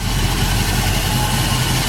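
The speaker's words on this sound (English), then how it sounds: "powered by its numbers matching 400 4-barrel V8 engine" A numbers-matching 400 four-barrel V8 in a survivor-condition 1978 Pontiac Trans Am idles steadily, a loud, close, even rumble with no voices over it.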